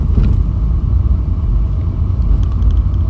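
A car drives along a road with a steady, heavy low rumble of engine and tyre noise from inside the cabin, continuous and loud throughout.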